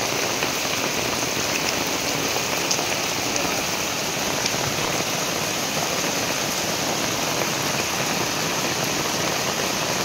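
Heavy rain pours steadily and loudly for the whole stretch, a dense unbroken hiss of drops drumming on a house roof, with no voices.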